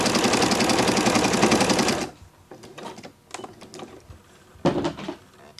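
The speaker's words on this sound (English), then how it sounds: "So you just simply sew the two together." A sewing machine stitches two rag quilt pieces together in a fast, loud, continuous mechanical whir for about two seconds, then stops, leaving scattered clicks and fabric handling nearby.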